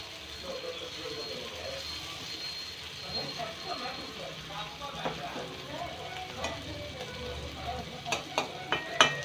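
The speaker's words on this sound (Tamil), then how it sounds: "நல்லா ஃப்ரை ஆகட்டும் லோ ஃப்ளேமில் வச்சு" Dried anchovies fry in a pan over a low flame with a steady sizzle under light stirring, while utensil taps and scrapes grow louder toward the end.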